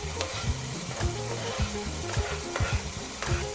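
Pasta sauce with green peas sizzles loudly in a pan while being stirred, with rhythmic scraping strokes of the spoon repeating every half second or so over a constant frying hiss.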